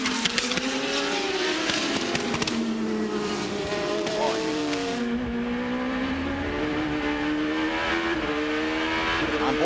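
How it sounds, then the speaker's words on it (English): Sports prototype race cars of the American Le Mans Series roar past at Laguna Seca in Monterey, engines revving and shifting in a tight pack, loud and continuous with rising and falling pitch, a broadcast voice faintly under the engines. "Normally quiet Monterey, rocking with the sound of the American Le Mans Series today."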